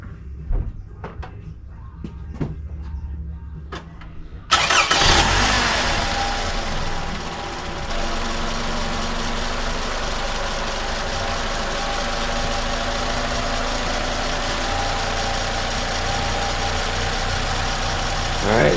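A 2010 Toyota Camry engine cranks and catches after a few quiet clicks and knocks, then settles into a steady, smooth idle that runs on evenly to the end.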